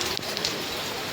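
Heavy rain falling in Mahuva during a downpour, a dense steady hiss of drops on surfaces with a few brighter splats, close and unbroken.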